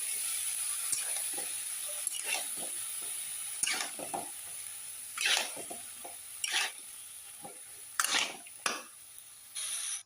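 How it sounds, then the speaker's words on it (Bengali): Roti fried in ghee on a pan: a soft background hiss broken by repeated short bursts of scraping and crackling as the bread is pressed and turned, close and moderately loud, with no voices. "এই যে রুটি ভাজতেছি"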